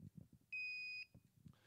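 A gate operator control board gives one steady electronic beep lasting about half a second, clear against quiet clicking and shuffling.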